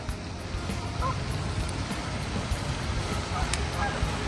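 Geese honk at a park pond, calls faint and distant within a steady wash of outdoor background noise.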